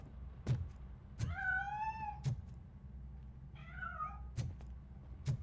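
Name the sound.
cat meowing in video game RoboCop: Rogue City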